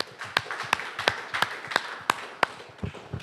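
A church congregation claps in a quick, steady rhythm, about three sharp claps per second, close and fairly loud, with no voices over it.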